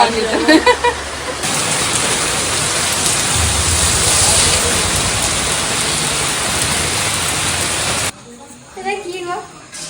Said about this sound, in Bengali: ওদিকে প্রচন্ড জোরে বৃষ্টি এসে গেছে বাইরে